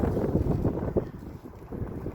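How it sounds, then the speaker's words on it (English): Gusty outdoor wind buffets the microphone in Colorado, a steady low rumble that swells and dips without pause for the whole stretch, with no voices over it. "It's just so windy here."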